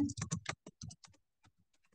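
Quick keystrokes on a computer keyboard, a fast cluster of clicks at first, then thinning to sparse, lighter taps, close and quiet with no talking.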